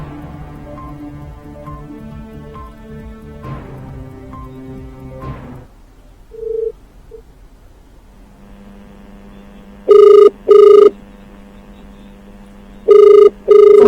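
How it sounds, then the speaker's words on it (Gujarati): Telephone ringing on an outgoing call attempt comes as two pairs of loud, clipped ring bursts. Before them, a stretch of tonal music plays and then a quiet gap. "તેમને સીધો જ ફોન કરવાનો બીટીવી ન્યૂઝ દ્વારા પ્રયત્ન કરવામાં આવી રહ્યો છે"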